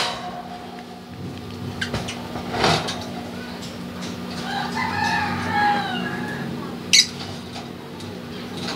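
Chickens cluck and call in a coop area, with a faded blue hen among the birds, the fowl sounds fairly close over low background hum, a sharp knock or door-like clack near the end, and a voice speaking.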